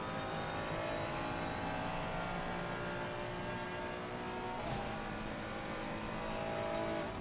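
Ferrari 296 GT3 race cars at Zandvoort in a racing video game, engines droning at a continuous, steady roar with shifting engine tones and no breaks.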